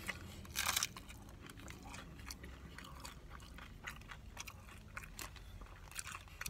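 Taco Bell crunchy tacos are bitten and chewed close to the microphone, with one loud brittle crunch early on followed by quieter, irregular crunching and chewing with no talk.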